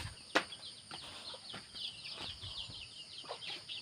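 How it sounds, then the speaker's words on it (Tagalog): Faint clucking and rustling of chickens in an outdoor setting, with soft bird calls and a brief sharp sound near the start. "Ang mga manok."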